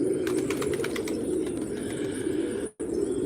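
Pigeons in a rooftop loft give soft cooing and rustling over a steady outdoor hum, with a few flutters of wings and light clicks close by.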